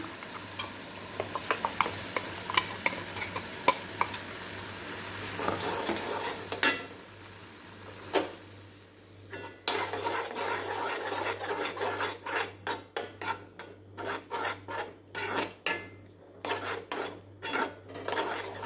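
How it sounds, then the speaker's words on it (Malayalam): Cucumber kichadi mixed with ground paste is stirred in a pot on low flame: irregular metallic scrapes and rasps of a spoon against the pot, growing quicker and more clattery toward the end. "നന്നായി ഇളക്കി കൊടുക്കാം"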